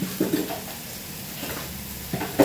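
Meat for humba browning in a pan, a steady low sizzle with occasional clinks and scrapes of a utensil, close and moderately loud.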